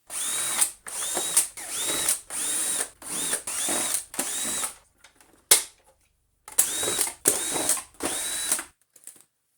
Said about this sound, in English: Then we need to get, I think it's a crosshead screwdriver, and undo an absolute butt ton of screws.